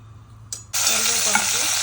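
Near silence, then a sudden loud, bright sizzle as mustard seeds and cumin hit hot oil in a pan for aloo kurma, hissing continuously with a faint crackle.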